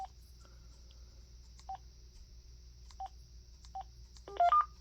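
A 5.8 GHz cordless phone set to tone dialing gives a few faint, short key tones spaced about a second apart, with a brief cluster of beeps at the end over a quiet background hiss.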